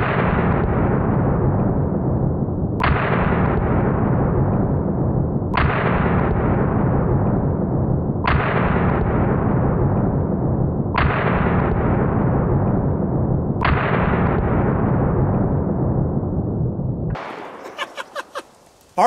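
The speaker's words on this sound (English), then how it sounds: "So now I have the slow-mo camera set up, and I'm gonna do a mag dump with each one. First up is the Smith & Wesson Model 610." Smith & Wesson Model 610 revolver fired in a rapid mag dump, six loud close gunshots evenly spaced about 2.7 seconds apart over continuous ringing din, ending with a few faint clicks and handling noises.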